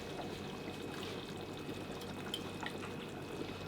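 Sour grape verjuice poured into a simmering Gilaki herb and meat stew, a steady soft trickle and splash running continuously at close range, with no voices.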